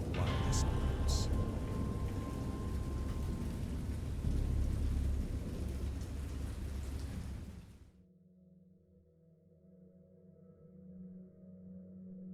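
Thunderstorm in a horror video game: heavy rain and deep rolling thunder roar loudly for about eight seconds, then cut off abruptly to a quiet, low hum with faint tones.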